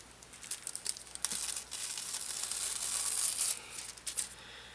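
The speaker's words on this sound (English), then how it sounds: "Let's peel it off." Hot foil being peeled off cotton fabric: a soft, continuous crinkling and tearing rustle lasting several seconds at close range, with brief sharper crackles, no voices.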